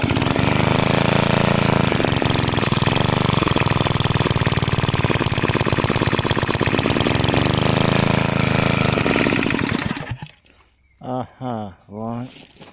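A freshly rebuilt Briggs & Stratton small engine runs loud and steady slightly off choke for about ten seconds, then cuts out, leaving a few bursts of nearby speech.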